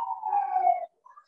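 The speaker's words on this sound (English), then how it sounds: "sirens outside." A siren outdoors, heard faintly through a room as a single sustained wailing tone that slowly falls in pitch, then cuts off and briefly resumes.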